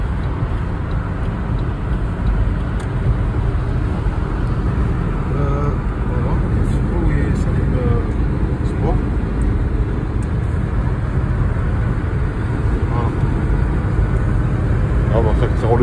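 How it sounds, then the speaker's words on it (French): A 1998 SAAB 900 Turbo engine, 185 horsepower, hums steadily inside the moving car on a motorway, with road and traffic noise throughout and occasional voices underneath. "Ça roule bien évidemment, on entend le moteur, la puissance."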